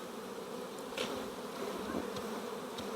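Honeybees buzz on a hive frame during the splitting of a colony, a continuous close hum with a few individual bees passing briefly louder near the microphone.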